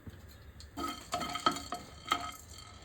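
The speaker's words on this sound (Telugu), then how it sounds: "కొద్దిగా దాసం చెక్క, ఒక స్టార్ పువ్వు, 3 లవంగాలు, 4-5 మిరియాలు, ఇవన్నీ లైట్గా ఫ్రై చేసుకోవాలి" Cinnamon, star anise, cloves and peppercorns lightly frying in a pan, heard mostly as a spoon stirring and clinking against the metal over a soft, low sizzle, with several distinct taps. No one speaks.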